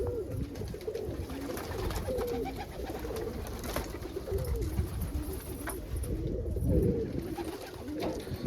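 Almond pigeons cooing steadily over several seconds, soft repeated throaty coos layered with background bird sounds, moderately close and fairly quiet.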